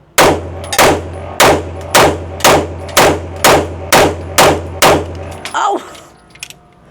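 Nine sharp, loud shots from a Kimber 2K11 Comp 5-inch pistol at a steady pace about two-thirds of a second apart, each with a short ringing decay, then a brief clatter.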